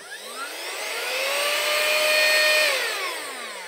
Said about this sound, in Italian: Qui abbiamo il nostro aspirapolvere, io ora non so però se è carico